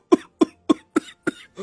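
Kuldeep, a man, coughs loudly six times in an even, rapid series, each a close, sharp burst.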